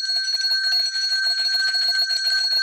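A bell rings with a bright, sustained metallic tone, steady and fairly loud, with slight rapid fluttering throughout and no voices.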